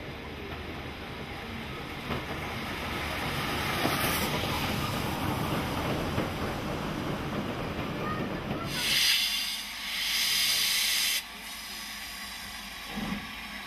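An LMS steam locomotive, 45231, running at speed while hauling the Cathedrals Express rail tour, gives a steady loud rumble and rush of passing wheels and carriages, then a brief hissing burst before it fades.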